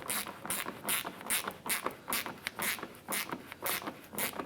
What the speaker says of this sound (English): We're going to use our 10mm socket to go ahead and snug this bolt down to that clip.